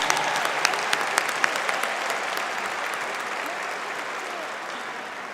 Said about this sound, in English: Let's give a big round of applause to the students in Masters of Human Resources